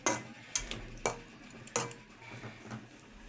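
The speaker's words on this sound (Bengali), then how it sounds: "এখন আমি নেড়ে ছেড়ে ভালোভাবে মশলার সাথে তরকারিগুলো কষিয়ে নিচ্ছি" Potatoes, eggplant and other vegetables being stirred with spices in a hot pan: repeated spatula knocks and scrapes against the metal over a faint background sizzle, close and alone.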